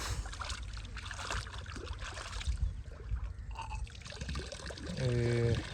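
Fertilizer dissolved in irrigation water pours and flows into a farm field, a steady close rush of water with a faint tonal hum near the end.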